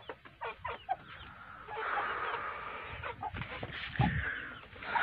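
Chickens cluck close by in short, repeated bursts, with several birds calling over one another amid a steady background hum.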